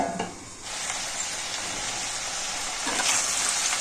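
Brinjal pieces cook in a pan over a low flame, giving a steady, close sizzle with a brief stir or scrape near the start and no talking.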